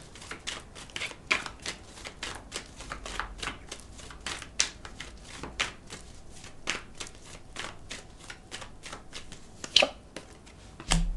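Tarot cards are dealt and laid over a spread with repeated soft, quick slaps and shuffling flicks, a faint, irregular series of close card sounds.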